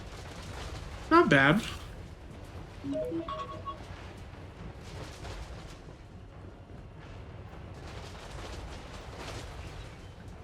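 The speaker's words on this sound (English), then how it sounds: "We have our Eagle-Claw bolt thrower, getting a few shots off on these guys with its multi-shot round." Eagle-Claw bolt thrower firing multi-shot volleys in a Total War High Elves campaign battle, heard as a few scattered bursts of projectile impacts and battle noise, with a brief spoken remark partway through.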